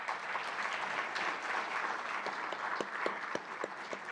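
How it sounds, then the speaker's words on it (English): An audience at an awards dinner applauds student award recipients, dense steady clapping from a crowd in a room, with a few sharper individual claps near the end. "Let's give a hearty round of applause to these outstanding students and to all our student award"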